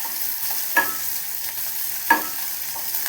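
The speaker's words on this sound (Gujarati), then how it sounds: "હવે આપણે એમાં ડુંગળી નાખી દઈશું. એને થોડીક સોતે કરી દઈશું ફ્રેન્ડ્સ." Onion is sautéed with garlic in a pan for broccoli soup. There is a soft, even sizzle with two distinct scrapes as the onion is stirred, and no voice.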